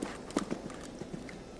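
Horse hooves on an arena surface during a dressage session, a few soft irregular thuds moving from walk into canter, fairly near and not very loud.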